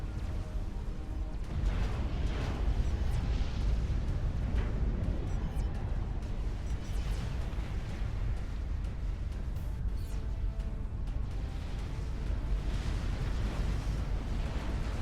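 Continuous dense roar of explosions and booming fire from a YOLO unit in the strategy game Supreme Commander: Forged Alliance, loud and sustained throughout with overlapping bursts and no clear gaps.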